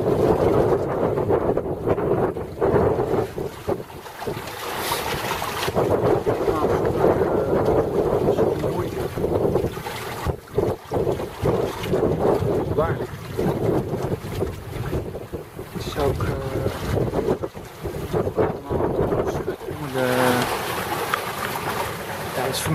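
A sailboat moves through rough water in the tidal inlet between Simonszand and Schiermonnikoog under heavy wind buffeting the microphone, with splashing waves and occasional creaks and knocks, continuous and loud.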